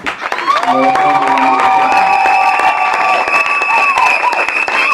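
Wedding guests at a church celebration cheer, whoop and applaud loudly, a sustained burst of crowd noise and clapping with voices ringing out throughout.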